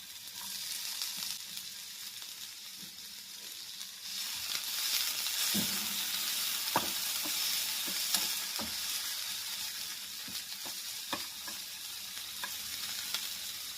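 Onions fry in hot oil in a pan while a masala omelette is prepared, a steady hiss of sizzling with occasional sharp clicks and scrapes from stirring, heard close up with no talking.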